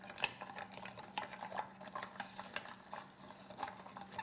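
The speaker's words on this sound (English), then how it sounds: "So at this point, I've been stirring, like I said, for about 3 or 4, possibly up to 5 minutes now" Lye is stirred into liquid for milk soap, a faint, quiet scraping and swishing with light taps and clinks against the container, continuing irregularly with no talk.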